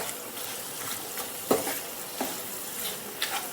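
Chicken pepper dry fry with curry leaves and coconut oil is stirred in a pan, soft sizzling under a few distinct scrapes and knocks of the spoon against the vessel.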